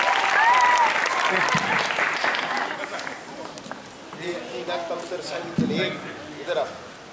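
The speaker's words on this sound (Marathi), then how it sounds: "टाळ्या वाजवा." A room of schoolchildren claps together at a special school assembly, starting loud and dense then thinning out as a teacher talks over it.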